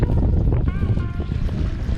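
Steady, heavy wind rumble buffets the microphone outdoors, with faint voices and a brief whistling tone partway through.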